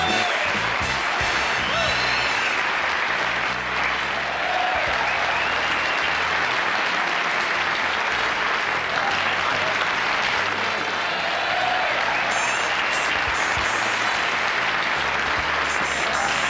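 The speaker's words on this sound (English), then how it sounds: "I'm humbled by that applause." A television studio audience at The Johnny Carson Show in 1981 applauds loudly and continuously for a long stretch, a dense, sustained roar of many clapping hands.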